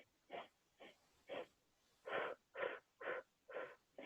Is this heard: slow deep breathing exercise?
yes